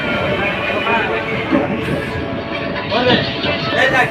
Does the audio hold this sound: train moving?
yes